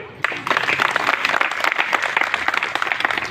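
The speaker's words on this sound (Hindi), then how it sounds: "क्या उनके लिए तालियां नहीं बनती?" Crowd applause at a protest gathering over a chit fund scam, a steady wash of many hands clapping that starts abruptly and continues throughout, fairly loud and close.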